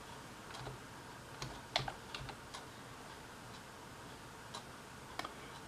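Sparse, faint clicks of a computer keyboard as a web address is typed, a few scattered keystrokes over a steady low background hiss.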